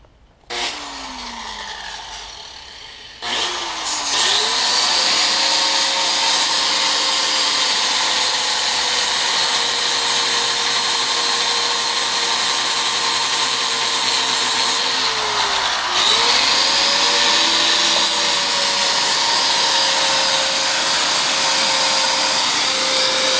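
A power tool grinds metal for intake manifold clearance on a K-series engine during a supercharger install, a loud steady high whine that briefly dips and restarts midway, running continuously with no talking.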